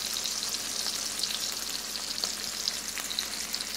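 Chicken breasts frying and sizzling in a hot pan, a steady loud crackle with scattered sharper pops throughout, close and continuous with no talk.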